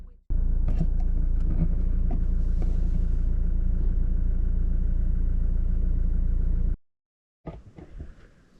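A car idling at a campsite, its steady mid-pitched engine hum loud and close for several seconds before cutting out, then some faint handling noises.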